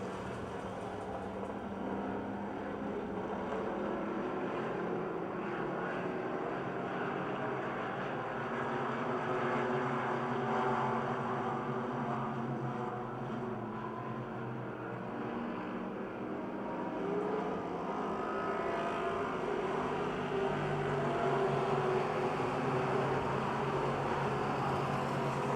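Race cars lap Pittsburgh's Pennsylvania Motor Speedway during a July 2005 race, a continuous distant engine drone with droning harmonics rising and falling gently across the field, with no voices.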